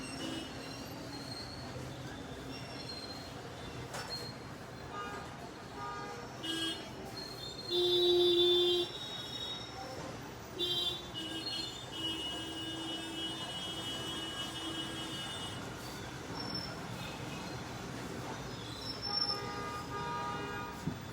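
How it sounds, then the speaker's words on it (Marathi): A train rolls past with a continuous rumble of wheels on track and a brief, loud, high wheel squeal partway through, heard at moderate distance amid general city traffic noise, with no talking. "या गाड्यांच्या, या आवाजांच्या,"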